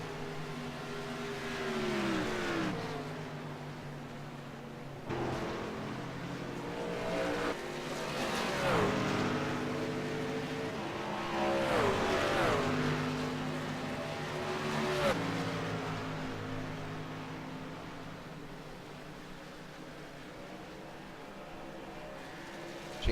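Racing trucks in the USRC Truck Series roar around the track, their loud engines droning continuously with rising and falling revs and repeated pass-bys.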